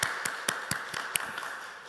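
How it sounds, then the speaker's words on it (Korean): A church congregation at a dawn prayer service claps for the accompanist. The claps come as a steady, evenly spaced run of about eight sharp beats, fairly quiet and fading toward the end. "우리 박수해 드립시다."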